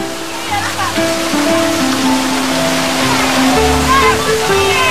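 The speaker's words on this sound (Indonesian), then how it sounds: "Selamat datang di air pancur Sorisambu, teman." Water pours steadily from a village water spout into a pool, a loud continuous rushing wash heard up close, with voices and some tonal sounds layered over it.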